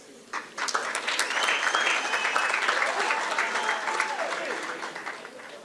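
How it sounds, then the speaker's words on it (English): Applause breaks out from a graduation ceremony audience, swelling quickly after a brief start and holding as a dense, sustained clatter of hands, with some voices and whoops rising above it before it gradually tapers. "Let's get another round of applause."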